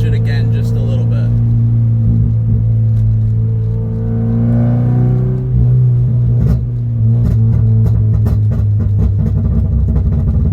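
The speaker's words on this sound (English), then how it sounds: "And you get your backfire." A Subaru BRZ engine drones loudly near the microphone, then rises in revs toward 3,500 RPM before the throttle lifts and sharp crackling exhaust pops and backfires follow.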